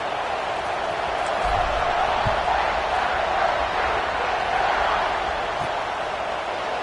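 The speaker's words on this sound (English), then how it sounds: "this crowd is feeling themselves after that last drive" A college football stadium crowd at Buckeyes vs Scarlet Knights keeps up a steady, broad roar of cheering at kickoff, loud and sustained, from a distance.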